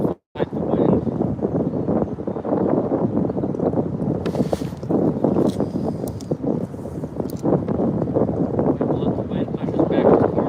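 Wind buffets a microphone out on the water during kayak fishing, a rough, fluttering low rumble that gusts steadily for several seconds, loud and close.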